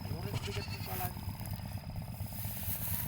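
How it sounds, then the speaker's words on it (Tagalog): Goats bleat on a Philippine farm, a few wavering cries early on over a constant low rumble of background noise, with someone talking nearby. "Maraming mga kambing dito guys."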